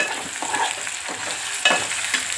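Tomatoes fry in a pan with a steady sizzle while being stirred, with spoon scrapes and clinks recurring at a loose rhythm, close and clear, with no talking.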